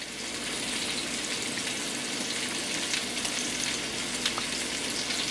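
Italian sausage browns in a pan for chicken scarpariello, giving a continuous even sizzle that stays steady and moderately quiet throughout.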